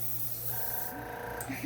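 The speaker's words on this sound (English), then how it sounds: "Are you really even spraying anything?" An airbrush or spray gun hisses steadily while painting a muskie crankbait lure, a continuous soft spray with a faint tonal hum and a brief louder burst at the end, with a voice speaking over it.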